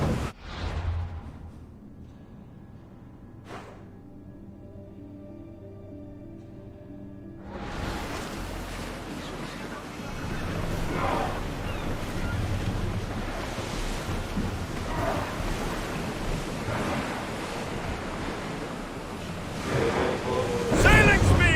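Ship sailing across ocean waves in Assassin's Creed Odyssey: a quiet start with faint tones, then a broad steady rush of surf, wind and water builds and holds loud, with swells rising toward the end.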